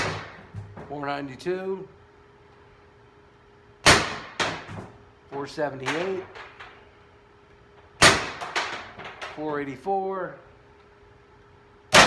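Three sharp suppressed gunshots from a rifle fitted with a 5-inch suppressor during chronograph testing, spaced about four seconds apart, each followed by a person calling out a reading.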